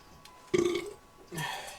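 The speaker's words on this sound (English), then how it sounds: "And it's loud when she burps." A single loud, throaty burp from a woman, with a strong rumbling tone for about a third of a second, followed by a softer, breathy tail of noise.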